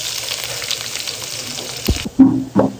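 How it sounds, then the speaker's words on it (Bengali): Onions fry in hot soybean oil with cardamom, cinnamon and bay leaf for an aar fish curry, giving a steady, close hiss and sizzle that suddenly drops away, followed by a couple of dull stirring knocks. "তারপরে গরম মশলা দিচ্ছি, এলাচ, দারচিনি, তেজপাতা। আর এখন পেঁয়াজ দিলাম।"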